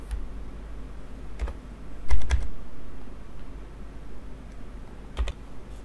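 Someone types a share number and password on a computer keyboard, giving scattered single keystrokes and a quick cluster of clicks, close and fairly quiet over a faint room hum.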